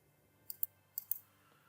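Computer mouse clicks, four sharp quiet clicks in two quick pairs over a near-silent background.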